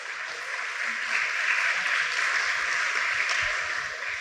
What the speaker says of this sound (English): Once again, very lusty applause to Honorable Prakash Prasad ji.